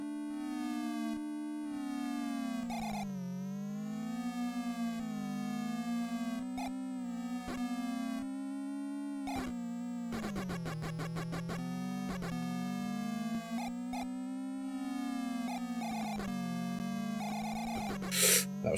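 Synthetic, tonal engine drones from the Nintendo game F-1 Race waver up and down continuously, with rapid whooshing sweeps where cars zip past, loud and steady throughout with no talking.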